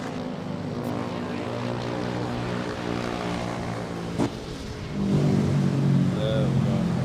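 A propeller airplane lands at Manila Airport with a steady engine drone close by, swelling louder toward the end while radio talk plays over it.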